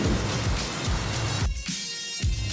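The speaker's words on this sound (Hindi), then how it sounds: "बहुत ही वर्षा होने लगती है।" Heavy rain pours down in a dense, loud, hissing patter, thinning briefly partway through before surging again.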